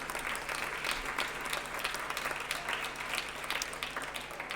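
Audience applause fills an award ceremony for business and environment prizes, a steady, dense wash of many hands clapping at a distance, continuous and even throughout with no voices over it.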